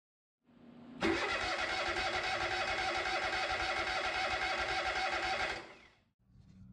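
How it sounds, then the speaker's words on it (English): A KOHLER EFI engine cranks with its high-pressure fuel pump module unplugged, a loud close rapid churning that holds for about five seconds without catching, then dies away. "Or unplug the high-pressure fuel pump module and attempt to start the engine."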